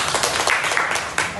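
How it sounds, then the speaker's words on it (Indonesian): A classroom of young second-grade children clapping for a classmate, a brief burst of quick, uneven applause close by, with a voice faintly mixed in. "Kita tepuk tangan dulu buat temannya."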